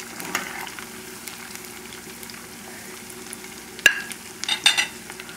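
Oil sizzles steadily as chicken pieces deep fry, with a few sharper pops and clatters near the end.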